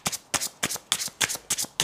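Tarot cards are shuffled close by in six quick, even bursts, each one a sharp riffle of flicking card edges that fades before the next, with no voices in between.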